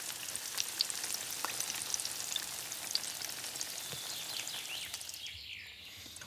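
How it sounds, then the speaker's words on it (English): Breaded okra cutlets frying in plenty of oil in a pan, a steady crackling sizzle with faint pops that drops away sharply near the end. "Like all schnitzel, this vegetarian variant is fried in generous quantities of oil until crispy"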